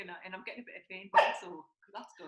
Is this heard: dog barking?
yes